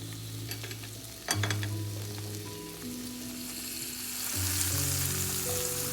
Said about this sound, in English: I'm just letting that saute in my cast iron skillet